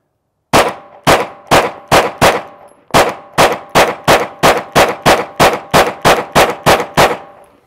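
A Canik TP9sa pistol fires at targets in a long string of loud, sharp shots with ringing tails, five rapid shots, a short pause at a magazine change, then a dozen more evenly spaced, with no talk.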